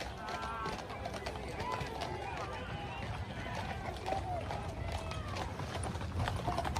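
Police horses on a city street during a protest, with hoof clip-clop and trotting steps mixed into a loud, busy crowd din of shouting voices throughout.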